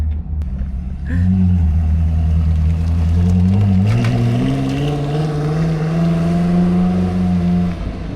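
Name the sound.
Koenigsegg Jesko supercar driving away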